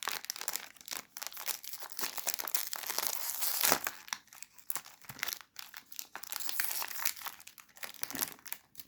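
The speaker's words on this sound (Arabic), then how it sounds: "نفتح الكيس رقم 3" A cake snack bag is torn open with busy, crackling plastic wrapper crinkles and a sharp tearing peak midway, close and continuous, with no speech.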